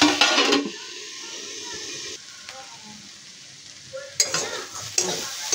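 Chicken sandwich filling is stirred in a wok. A loud burst of scraping and sizzling opens, then a quieter stretch, then more close, rough stirring scrapes return.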